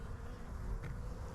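Honey bees buzz in a dense, steady drone while frames are pulled from a hive during a spring inspection, the hum close and continuous throughout.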